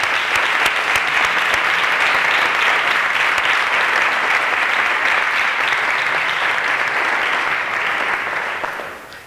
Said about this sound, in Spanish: Por favor, un aplauso para él